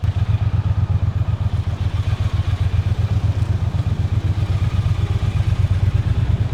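A Triumph Bonneville motorcycle cruises down a wide city boulevard, its engine a steady, close, loud pulsing rumble with a rapid even beat and no voices over it.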